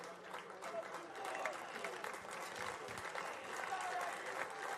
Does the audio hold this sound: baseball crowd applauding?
yes